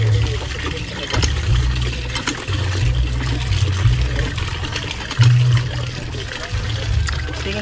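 Water gushes hard from a pump with a strong, continuous rushing and splashing, carried over a throbbing low mechanical rumble that swells at moments.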